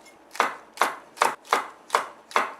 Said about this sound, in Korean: 청양고추도 지금 다져놔야 돼요